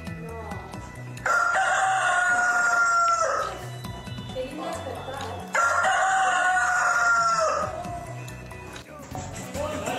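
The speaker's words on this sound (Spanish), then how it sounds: "en vez de tener un despertador odioso con un ruido permanente, no, mejor un gallo." A rooster crows loudly twice, each long harmonic call lasting about two seconds, with a pause between and livestock-like background noise throughout.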